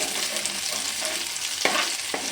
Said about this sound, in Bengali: দিয়ে লো আঁচে ভালো করে মশলাটা কষাতে থাকবো।